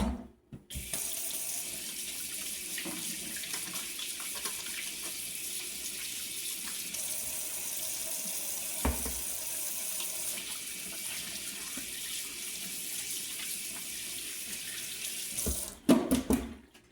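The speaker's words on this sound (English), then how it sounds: "Wash my hands again." A kitchen sink tap runs steadily for about fifteen seconds while hands are washed, a close, even rush of water with small splashes, cut off abruptly at the end with a couple of clunks.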